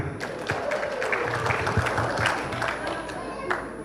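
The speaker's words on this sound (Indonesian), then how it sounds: "Mari kita tepuk tangan lagi" An audience at a Pemuda Batak Bersatu inauguration ceremony in West Papua applauds, uneven clapping with a few sharper claps and thumps, and some voices mixed in beneath.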